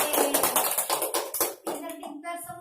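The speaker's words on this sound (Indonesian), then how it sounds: "Tepuk tangan untuk kita semua." Primary pupils in a grade five classroom applauding, a quick run of irregular hand claps close by that fades out near the end and gives way to a speaking voice.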